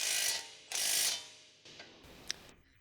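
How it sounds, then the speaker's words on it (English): Ratchet socket tightening a lower control arm ball joint bolt on a 2015 Ford Escape: a few close, crisp ratcheting clicks in short bursts, with a small metallic tick near the end. "Tighten it using a socket."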